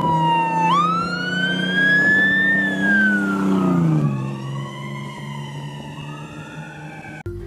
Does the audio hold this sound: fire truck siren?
yes